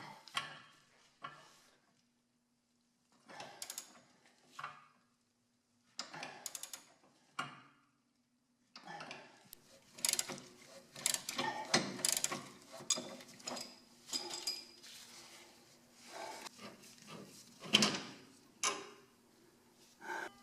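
A ratchet wrench removes the nut from a front control arm bolt on a first-generation Mazda 6 while the bolt is held from the other end, giving quiet, intermittent bursts of clicking separated by pauses.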